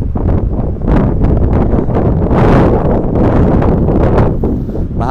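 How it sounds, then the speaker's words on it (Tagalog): Strong gusty wind buffeting a microphone outdoors beside a parked Toyota Alphard Hybrid, loud rumbling blasts that rise and fall in waves with no voices. "Mahangin dito right now"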